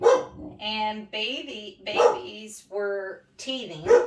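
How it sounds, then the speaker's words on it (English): A dog barks a few times, short sharp yaps breaking through close, steady talking from a person nearby. "That's my dog."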